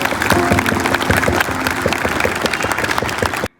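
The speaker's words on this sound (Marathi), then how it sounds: "तर स्वतःसाठी टाळ्या वाजवा. जोरात स्वतःसाठी टाळ्या." Loud, dense applause from a group of participants at an International Yoga Day event, with many people clapping together for about three and a half seconds before it cuts off abruptly.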